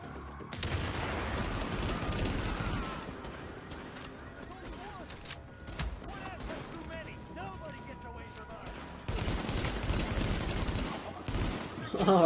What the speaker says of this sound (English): Oh, I shot through.